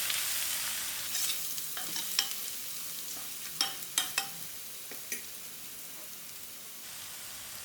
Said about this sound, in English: Just another 2-minute fry.